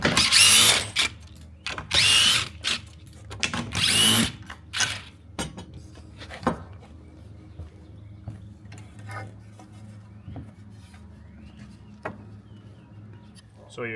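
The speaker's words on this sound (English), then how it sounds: "you want to take all of these screws out" A cordless power drill backing screws out of a wooden panoramic barrel sauna, several short whirring bursts in quick succession, close and fairly loud, followed by quieter clicks and handling noises.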